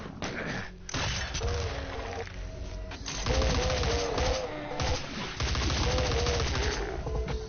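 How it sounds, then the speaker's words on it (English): A grenade launcher fires in a video game amid a busy battle mix, with rapid bursts of gunfire, crashes and impacts packed densely over several seconds and a faint voice underneath. "Get the grenade launcher out"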